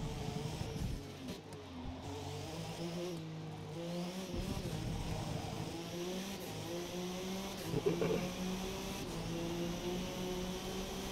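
Race car engine in Forza Motorsport driven from hood view, droning and revving continuously with rising and falling pitch as gears shift, loud and close throughout, with no talk over it.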